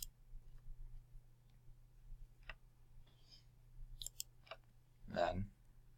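A computer mouse clicks in a quiet room while working in a spreadsheet: a few faint, sparse clicks spread across the span, then a louder, fuller click near the end over a low steady hum.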